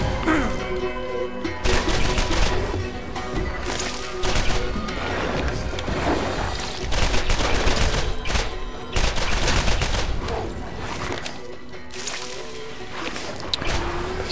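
Scattered gunshots and impacts in the video game Borderlands, irregular shots over a steady background of game noise, moderately loud throughout.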